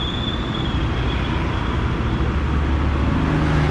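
Steady roadside traffic noise outside a hospital in Chennai during lockdown, with trucks passing, a continuous loud rumble and broadband wash throughout, no talking.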